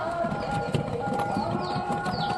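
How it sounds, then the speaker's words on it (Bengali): Pigeons feed on grain with soft pecking and scattered clicks, while faint bird calls and coos sound around them; a steady low hum sits underneath. "আর শস্যটা তো কত সুন্দরভাবে খাচ্ছে কবুতর।"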